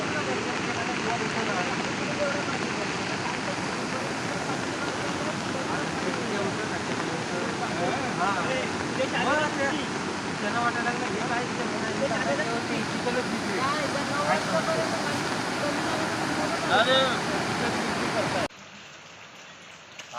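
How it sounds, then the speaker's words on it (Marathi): Heavy monsoon rain pours steadily in Konkan, a dense, loud, even roar of falling water lasting most of the clip before cutting off abruptly near the end, with a voice faintly present underneath. "एवढा बाहेर पाऊस पडतोय"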